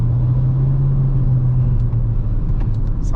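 Proton S70 engine heard from inside the car on the Sepang circuit: a loud, steady low drone with a strong humming tone, easing slightly partway through, with faint ticks near the end.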